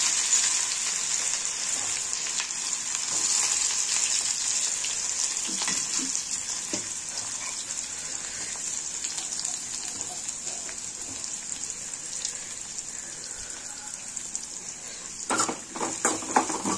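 Onion sautés in oil with mustard seeds, cumin and chilli, giving a continuous, even sizzle like steady rain. Faint stirring taps come through, with a brief burst of clatter near the end and no speech.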